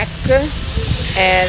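Nearby construction work sends out a steady, loud hissing roar outdoors near a parked car, with a voice talking over it throughout.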